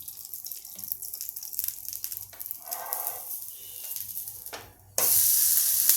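Thalipeeth flatbread of sweet corn frying in ghee in a pan, a close sizzle with scattered crackles, then a sudden louder hiss as it is turned near the end.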